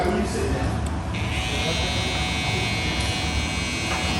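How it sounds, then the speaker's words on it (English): Babyliss FX custom electric hair clippers run with a constant close buzzing hum throughout, while a voice talks over the sound. "my new clippers that I got from Babyliss. I customized them on Babyliss FX."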